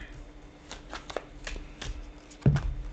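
Soft, papery riffling of tarot cards being shuffled, a quick run of light flicks with a slightly heavier slap near the end, close and quiet.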